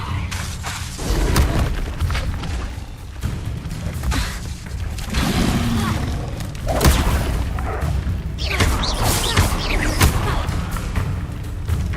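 Hogwarts Legacy spellcasting with Incendio fire bursts and Levioso lifting spells, a dense run of booming magical blasts, whooshes and thuds repeating loudly over a continuous game soundscape.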